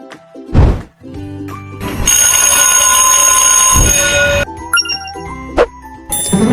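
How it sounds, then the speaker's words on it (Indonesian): At a school, a bell rings for class from about two seconds in, a bright sustained electric ringing that runs for a couple of seconds between scattered thumps and chiming tones. "bel masuk kelas sudah bunyi"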